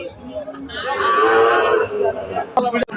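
A cow at a cattle market gives a loud, long moo close by, with a brief knock and market bustle after it.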